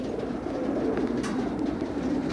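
A basket of about 20 pigeons coos continuously, a dense, low, overlapping murmur with no pauses.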